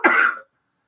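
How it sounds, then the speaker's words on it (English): One short, sharp cough, close and fairly loud, followed by silence. "Can't talk now. Gonna keep coughing"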